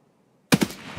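Automatic gunfire in Escape From Tarkov breaks out suddenly after near silence, a loud close burst of two or three rapid shots followed by a fading echo.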